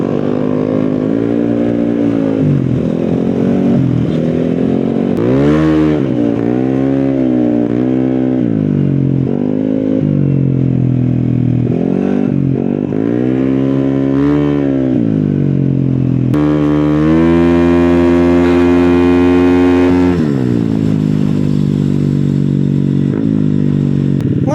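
A motorcycle engine revs loudly and close, its exhaust roaring up and down in repeated throttle bursts with a rising, sustained blast near the end.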